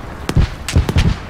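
In Battlefield V, a Panzerfaust launches with a sharp crack followed by a few quick booming impacts, close and loud, all within about a second.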